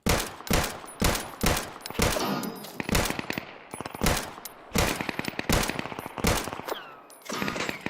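Rapid bursts of video game gunfire crackle loudly and repeatedly in a chaotic multiplayer server battle, with dense automatic fire in evenly spaced volleys and no talking.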